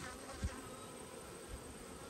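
Honeybees buzz around busy hives while bringing in a heavy nectar flow, a soft continuous hum with one bee briefly passing close.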